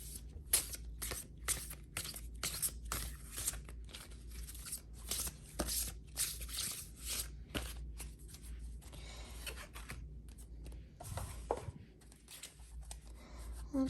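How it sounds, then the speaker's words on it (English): Oracle cards from the Watercolor Impressions deck are shuffled by hand, giving rapid riffling and slapping bursts in irregular runs, quiet and close, with short pauses between shuffles. "Let's shuffle a couple more times."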